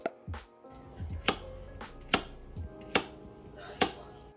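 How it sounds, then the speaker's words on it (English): A knife chops green bananas on a cutting board in a steady rhythm of sharp, close thuds, about one every 0.8 seconds, with softer board knocks between them. "I had my green bananas ready, so I'm just chopping them up"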